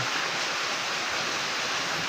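A shower sprays water in a semi-modern bahay kubo house, giving a steady, loud, close hiss of spraying water with no talk.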